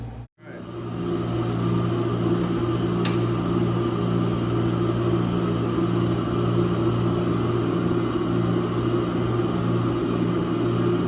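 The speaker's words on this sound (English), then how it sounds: "there's going to be a steering gear test happening" Shipboard machinery runs steadily during a steering gear test in a ship's engine spaces, a loud continuous hum with strong low tonal drone and broadband noise, one brief click partway through, no speech.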